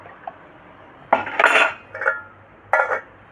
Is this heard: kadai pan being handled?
yes